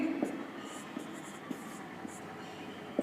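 Pen or chalk writing out a coordinate geometry maths problem for a Class 10 lesson, heard as faint scratchy strokes with soft taps spread through a quiet room.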